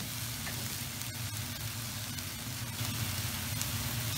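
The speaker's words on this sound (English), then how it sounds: "we just want to cook this for about a minute or two until all our meat has browned" Steady crackling sizzle of lamb meat searing in a hot pan over high heat, a dense continuous hiss with scattered small pops and no talking.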